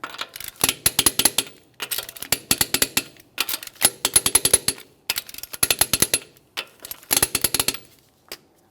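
Lug nuts are tightened in a crisscross pattern on a wheel of a 2008-2017 Mitsubishi Lancer, with about seven loud, close bursts of rapid ratcheting clicks separated by short pauses.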